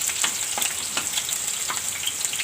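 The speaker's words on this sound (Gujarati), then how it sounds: "અને આ મરચાં સુધાર્યા છે એ નાખી દેવું સહેજ આપણે લસણ લાલ જેવું થાય" Chopped green chillies and garlic frying in hot oil, a steady close sizzle with crackling pops and occasional stirring, no voices.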